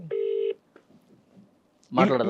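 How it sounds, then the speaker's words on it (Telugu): A short telephone tone sounds once, a single steady beep from a call being placed to an advocate, followed by a brief quiet and then a voice talking close to the phone. "అడ్వకేట్ సుబ్బుతో నేను కాల్ చేసే ప్రయత్నం"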